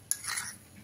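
Cabbage stirred in a pan with a utensil, a single brief scrape and clink against the metal, close and fairly quiet.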